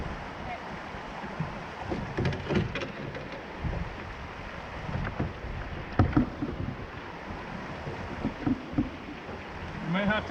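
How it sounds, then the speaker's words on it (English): A canoe paddled down the Steel River on a long fishing trip, with irregular paddle strokes, splashes and rushing water against a steady wind-like wash, plus faint voices in the background. "So you paddle on your right side for just a second, and then we'll cut back to the right."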